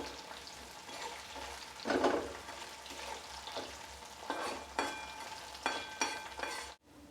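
Chopped onion with three chopped green chillies frying in a pan for spinach dal, with repeated scraping stirs over a steady sizzle and no talk, close and moderately loud.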